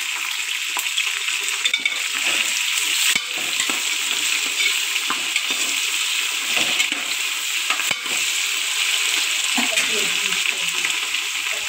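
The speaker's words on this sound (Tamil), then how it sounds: "இப்போ வெங்காயத்தையும் போட்டாச்சு. வெங்காயம் நல்லா பொன்னிறமாக வதங்கி வரட்டும்." Onions and green chillies frying in a pressure cooker, a steady dense sizzle running throughout with occasional stirring scrapes and clicks close by.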